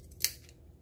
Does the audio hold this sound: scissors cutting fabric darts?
yes